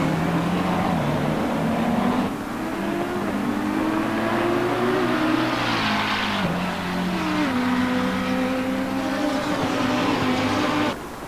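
A McLaren 650S GT3 race car engine roars hard at Circuit Zolder, loud and close, pitch rising and dropping through the gears under braking and acceleration, with no voices.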